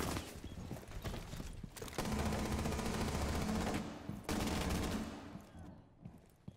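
Thorn's gun fires a sustained automatic burst in a Rainbow Six Siege match, loud, dense rapid shots lasting a few seconds before tapering off, with no talk over it.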